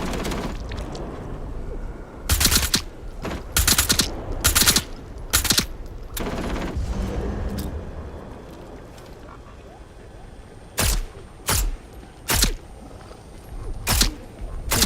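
Gunfire in the video game Atomfall: bursts of shots crack out at about 2.5 to 5.5 seconds, then single loud reports near 11, 11.5, 12.5, 13.5 and 14.5 seconds. A game ambience runs underneath, with talk in between.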